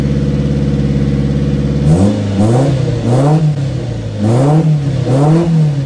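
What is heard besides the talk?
Subaru Sambar engine revving after carburetor rebuild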